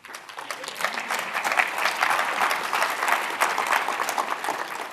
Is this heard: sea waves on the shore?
no